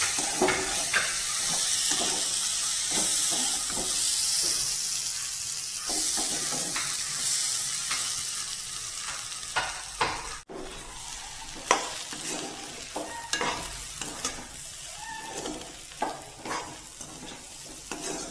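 Dal frying in oil for an Assamese village-style sour dal with elephant apple, sizzling steadily while a spoon scrapes and stirs in repeated strokes, close and fairly loud.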